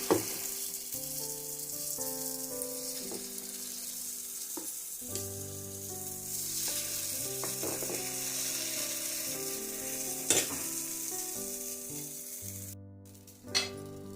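Appe batter fries in an appe pan over a low gas flame, giving a steady soft sizzle throughout. Sustained musical tones sit over it, with a few faint clicks and a short louder knock near the end.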